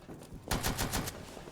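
Defenders in a competitive tactical shooter fire through walls, a rapid burst of about five or six sharp gunshots in quick succession, loud and close, with no talk.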